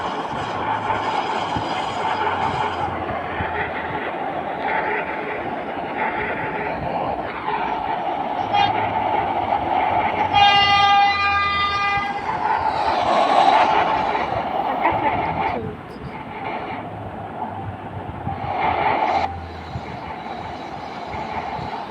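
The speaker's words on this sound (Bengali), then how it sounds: "ট্রেনটা আসছে" A subway train arrives at a New York station, with loud rumbling, squealing wheels and a sustained tonal horn or whistle midway, then a station announcement and brief talk over the fading rumble.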